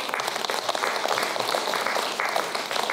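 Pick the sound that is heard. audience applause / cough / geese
audience applause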